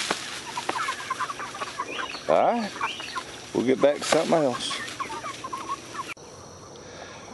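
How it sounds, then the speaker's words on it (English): Backyard chickens clucking and squawking in a run with a chicken tractor, with several close, loud bursts of rising and falling clucks while someone talks over part of it. "feed my chickens"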